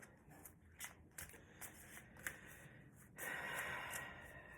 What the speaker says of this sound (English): Let me shuffle these angel cards